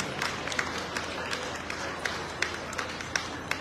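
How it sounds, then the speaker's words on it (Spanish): Wedding guests applauding at a live Mexican wedding reception, steady broadband clapping from a crowd with scattered sharper claps, moderately loud and continuous throughout. "Fuerte los aplausos."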